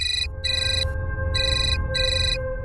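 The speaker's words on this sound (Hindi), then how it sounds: "रणवीर जी का फोन है।" A phone ringtone chimes for an incoming call in four short repeated electronic bursts with brief gaps, clear and moderately loud over a low background hum.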